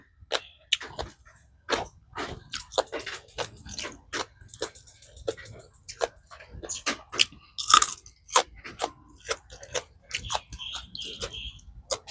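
A person bites and chews crunchy food close to the microphone, producing a steady series of crisp crunches and chewing clicks with short pauses and no talking.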